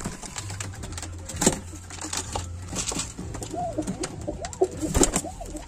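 Kalshira pigeons coo in soft, rolling, repeated calls close by, mixed with light clicks and wing or cage rustles.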